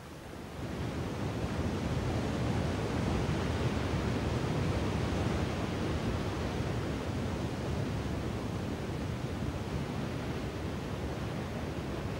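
Niagara Falls roars as a steady, dense rush of falling water, an unbroken broadband wash that stays even and full from start to finish with no other sounds over it.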